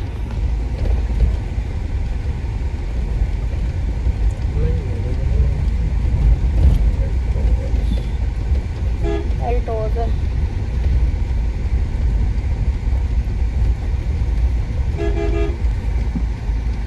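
Road traffic with a car driving past and short horn toots around the middle and near the end, under steady vehicle rumble, while someone talks throughout on a route near Badpura.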